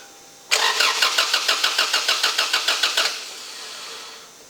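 Starter cranking the engine of a 1996 Toyota Tacoma with a manual clutch, a loud close rhythmic churning of about fifteen even pulses for roughly two and a half seconds that stops without the engine catching.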